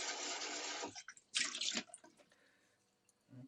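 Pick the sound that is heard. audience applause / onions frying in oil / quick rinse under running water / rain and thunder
quick rinse under running water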